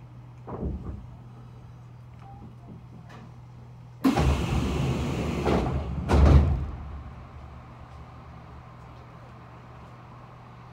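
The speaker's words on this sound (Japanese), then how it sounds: "扉が閉まります。" Doors on a Kintetsu 2610 series commuter train slide shut at a station between Hisai and Tsu, a broad whooshing rush with a heavy thud at the end, set against steady low engine hum and a few faint clicks.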